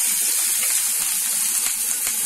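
Onion hits hot oil in a pan with a loud, steady hiss of sizzling frying, close and continuous with no voices.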